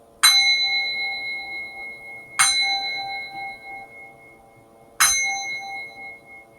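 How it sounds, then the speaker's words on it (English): A small bell is struck three times at spaced intervals, each a bright, clear ding with a long ringing decay that fades before the next strike, close and alone. "I like to ring my bell"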